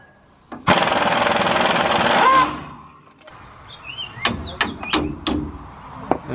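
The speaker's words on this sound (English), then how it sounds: "Now I'm taking this nut off for the strut bolt." Impact wrench rattling off a strut top bolt on a Ram 1500 during a lift install, one loud close burst of about two seconds, followed by fainter clinks and metallic handling sounds.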